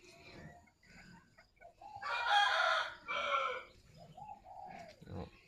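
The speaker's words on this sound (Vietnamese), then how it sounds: "Gà kêu, chim gáy." Green-legged chickens at a poultry breeding farm, with a loud close rooster crow in two bursts amid softer clucks and bird calls, including dove-like cooing.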